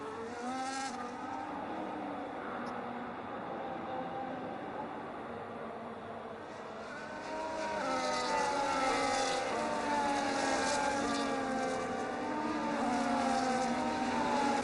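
F1 cars in a sim racing game at the Netherlands round accelerating away from a safety car restart, a dense pack of high-pitched engines rising through the gears together, growing louder and fuller midway as more cars join in.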